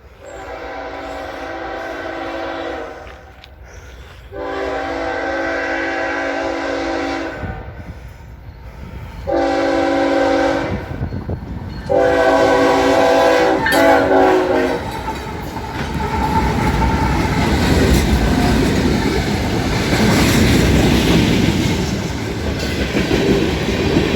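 A freight train led by a GE Dash 9 locomotive sounds several long, loud horn blasts in a row, then its cars rumble and clatter steadily past close by.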